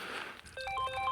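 A mobile phone ringtone chimes a short, bright electronic melody of clear rising tones, close and alone after a brief rustle, signalling a call from a wife while out on a lake.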